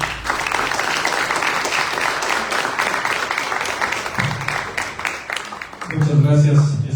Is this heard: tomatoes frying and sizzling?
no